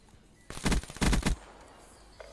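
Two short bursts of rapid automatic gunfire from a VMP submachine gun in the Black Ops video game ring out close and loud, separated by a brief pause, with quiet before and after.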